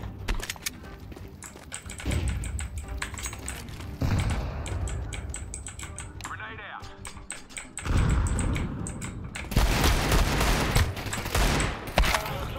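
Bursts of rapid gunfire crackle in clusters with sharp single shots between, loud and close, over a steady game-like background.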